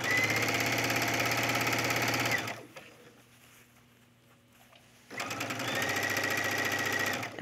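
Sewing machine stitching a gathered collar on a tunic: a fast, even mechanical patter for about two seconds, a quiet pause, then the machine runs again at the same steady speed, close and fairly loud.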